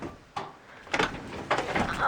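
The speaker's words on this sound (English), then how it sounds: "So yeah, this is an extremely heavy door" Heavy old wooden garage door at a cabin being moved, giving a few scraping, rumbling slides and knocks spread over a couple of seconds, fairly close but not loud.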